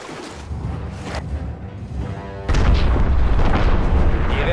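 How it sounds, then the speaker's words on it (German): A cargo ship explosion in Star Wars Battlefront on Scarif: a deep boom suddenly swells into a loud, sustained roar over ongoing battle noise. "Unser Frachtschiff wird jeden Moment explodieren."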